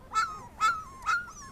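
Puppies outdoors on grass in a yard let out three separate high, thin whimpers spaced about half a second apart, close and clear against quiet surroundings.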